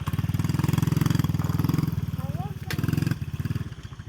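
A motorcycle engine idling close by with a steady, throbbing low rumble that dips briefly and then picks up again. A short whistle-like sound cuts in near the middle.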